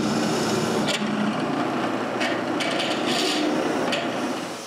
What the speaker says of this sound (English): I just need to chamfer all those holes.